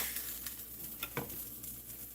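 Eggs fry in a pan with a soft, steady sizzle and a few faint pops and clinks, quiet and close with no voices.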